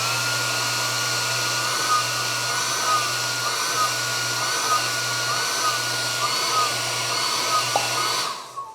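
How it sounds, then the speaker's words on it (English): A hair dryer roars steadily into the oil filler opening of a Jaguar XK8's AJ27 4.0L V8, loud and close, its tone wavering slightly as it is pulsed nearer and farther, then cutting off at the end. "and then I'll start with the hair dryer here"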